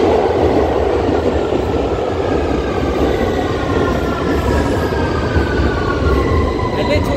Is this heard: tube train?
yes